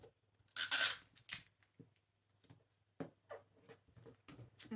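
Sticky tape is pulled off the roll in loud, crackling strips and pressed across printed paper sewing pattern pieces, with quieter rustles and taps of paper between the pulls and no talk.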